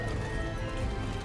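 Horse hooves thud in a rapid, continuous galloping rhythm in the video game Star Stable, close and steady for a brief moment under a dense wash of background game sound.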